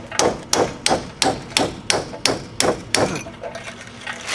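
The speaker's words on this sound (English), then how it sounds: "the next thing what I've been doing is taking the chisel," Steel chisel struck repeatedly with a hammer against the wheel hub of a 2001 Chevy Cavalier during hub and bearing removal: about nine sharp, evenly spaced metallic blows, close and loud, with no talking.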